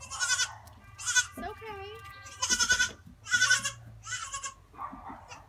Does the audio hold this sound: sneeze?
no